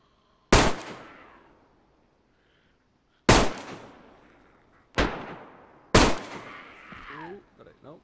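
Four loud, separate AK-18 rifle shots ring out in a zombie video game, each sharp crack trailing into an echoing decay, with a brief voice near the end.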